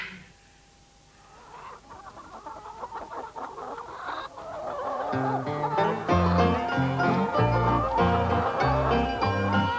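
An old ten-year-old hen clucks softly at close range, a few scattered clucks over a quiet backdrop before a bouncy musical tune swells up and carries on beneath.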